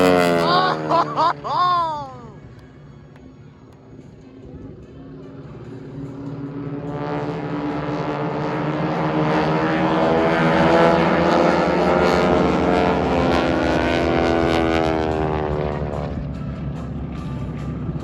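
Propeller planes of the AeroShell Aerobatic Team fly at the Rose City Airfest airshow. The engine drone swells as they pass close and loud, then fades slightly. Brief voices and laughter come at the start.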